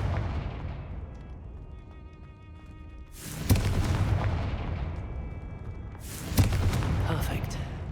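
Fiery Confringo spell blasts in the wizarding game Hogwarts Legacy, two loud booming bursts a few seconds apart, each with a sharp crackling onset and a rumbling tail over a continuous ambient music bed.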